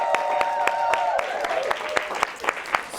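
Studio audience applause during a live show finale, a scattering of distinct claps that grows uneven and sparser, with a sustained musical tone fading out in the first second.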